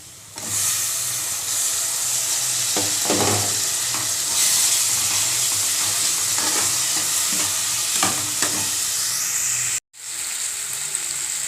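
Onions sizzle steadily in a hot pan for a ridge gourd masala, a loud continuous frying hiss with occasional stirring scrapes, briefly cutting out near the end before resuming.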